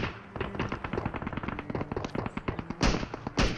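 Automatic gunfire in the battle royale video game BGMI, a rapid rhythmic string of sharp shots fired close and loud, followed by a couple of heavier isolated blasts.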